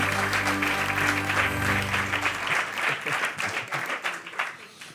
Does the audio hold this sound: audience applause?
yes